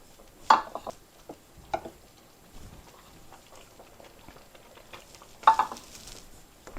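Beef drops into a pan for stroganoff in two loud scraping, sizzling bursts, the first early and the second near the end, with quieter stirring and faint crackle between them.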